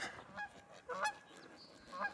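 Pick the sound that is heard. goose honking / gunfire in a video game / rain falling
goose honking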